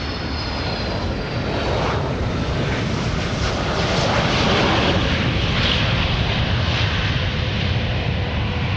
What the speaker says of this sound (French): Le bruit qu'elle avait entendu venait d'un avion qui fonçait droit vers elle.